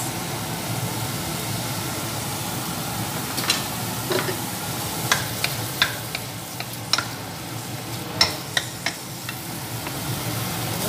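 Onions fry in plenty of oil in a pan, a steady close sizzle broken by irregular scrapes and clacks of a utensil stirring, with no talk.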